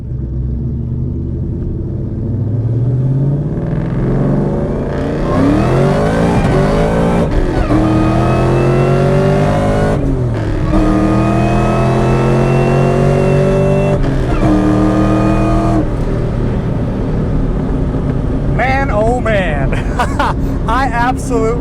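A 2003 Ford Cobra (Terminator) with traction control off accelerates hard, its engine note climbing in repeated rising sweeps separated by brief gear-change dips, loud and close throughout, with a faint high whine near the end.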